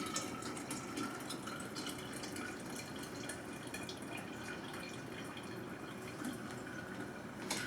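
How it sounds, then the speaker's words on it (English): Liquid strawberry tea concentrate poured through a basket tea strainer into a lemon juice and sugar mixture, a steady soft trickling and splashing that runs continuously at low level with no talk. "we can pour it into our lemon juice and sugar mixture"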